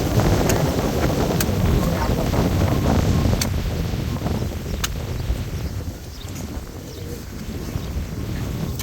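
Wind gusting through a farm garden where cassava is being dug on a cool day, a loud rushing roar with microphone buffeting that eases slightly toward the end, punctuated by a few sharp clicks.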